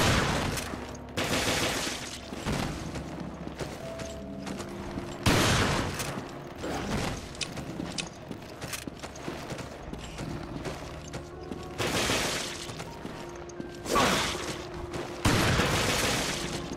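Heavy gunfire fills a combat scene in Resident Evil: Revelations, with bursts of loud shots and rapid volleys hammering over a dense background, mechanical clatter in between, and no talk heard.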